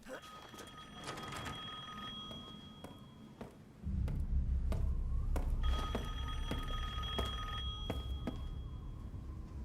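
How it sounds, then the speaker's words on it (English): Telephone bell ringing inside Resident Evil Village, repeating in steady rings over low game ambience and a heavier rumble that starts partway through, with someone talking over it. "Oh, the phone's going."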